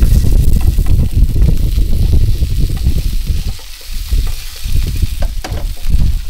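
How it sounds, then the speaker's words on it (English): Sausages from a bulk pack cooking on a barbecue, with a loud, close, continuous sizzle and spit that rises and dips slightly and has no voices over it. "We just cook up a few sausages on the barbecue."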